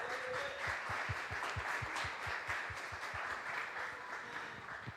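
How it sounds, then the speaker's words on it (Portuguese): A church congregation at a celebration service with communion applauds in a steady, quiet patter of claps that continues for several seconds at a distance, with no talk over it. "Pode aplaudir."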